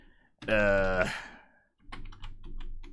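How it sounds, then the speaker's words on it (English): Brief bursts of computer keyboard typing, quiet clicks in short clusters near the microphone, following a loud voice exclamation at the start. "Let me change the screen so you can see what the hell I'm typing."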